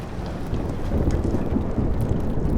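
Heavy rain roars with a low thunder rumble during a storm in the video game Life is Strange, a dense, loud wash of noise that swells slightly and carries no voices.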